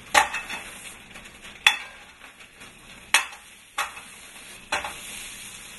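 Potato and bacon pierogies frying in a greased pan with a soft, steady sizzle, broken by several sharp clatters and knocks a second or so apart as they drop in or get moved around.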